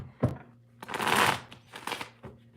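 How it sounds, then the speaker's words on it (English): Tarot cards being shuffled by hand, a close riffling burst that swells and fades with a few quick taps and flicks before and after, fairly quiet with no talk. "One more shuffle."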